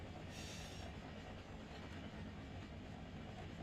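A freight train rolls downhill through snowy Truckee in the Run8 Train Simulator game, a steady low rumble of wheels with faint clicking and brief high squeal, continuous and fairly quiet throughout.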